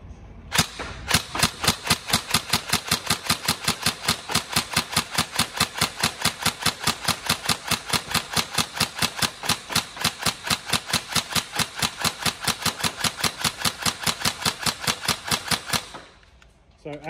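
Tokyo Marui 416 Delta airsoft gun firing in a long continuous burst: rapid, evenly spaced mechanical cracks at a steady cyclic rate for about fifteen seconds, close and loud, ending abruptly.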